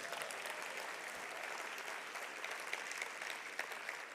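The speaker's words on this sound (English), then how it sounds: "Can we give her a big round of applause?" Applause from a conference keynote audience welcoming a new team member, a dense, even wash of clapping heard from a distance and fairly faint, continuing steadily throughout.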